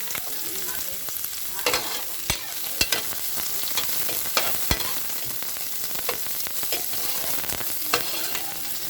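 Steady sizzling and crackling of onion and garlic sautéing in a hot pan, with occasional sharper pops and stirring scrapes throughout.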